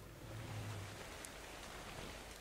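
Rain falls in Ark: Survival Evolved as a very faint, even hiss of drops, soft and steady throughout with no speech.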